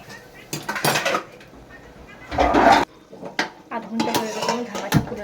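A lid is set onto a cooking pot of mutton curry, giving a short metallic clatter of pot and lid amid other kitchen clinks, with a voice talking nearby.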